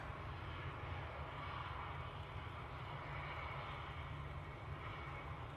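British Airways airliner at Manchester Airport produces a faint, steady, distant jet-engine roar that holds constant throughout, with no speech.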